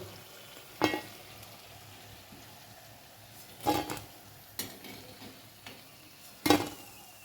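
Bottle gourd koftas frying in oil, giving a faint, steady sizzle broken by a few sharp clinks and knocks of a utensil against the pan.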